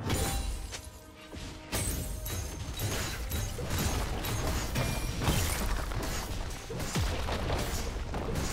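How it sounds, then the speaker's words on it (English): A turret crumbles in the League of Legends game with dense, continuous crashing and clanking mechanical debris, loud and busy throughout, over a steady game soundscape. "Team's turret has been destroyed."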